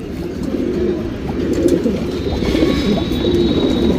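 Pigeons coo softly and continuously at close range, a low, throaty murmur layered over itself with no pauses and no people talking.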